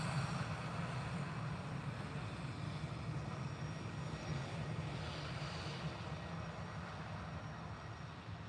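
An easyJet airliner at Liverpool Airport, a continuous low rumbling jet roar heard from a distance, steady and fairly faint throughout, with no voices.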